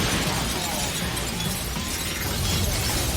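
Glass shatters in a dense, loud crashing spray during an action-movie scene, a continuous wash of breaking and debris noise lasting several seconds before it cuts off abruptly.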